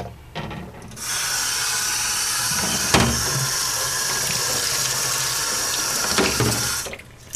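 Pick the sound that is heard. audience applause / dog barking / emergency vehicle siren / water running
water running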